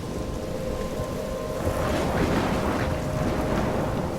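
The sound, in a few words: thunderstorm with rain in the video game Life Is Strange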